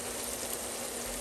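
Pork chops simmering in a pan for country-style pork chops and gravy give a steady, soft sizzle and bubbling crackle, close and even throughout the short stretch with no talking.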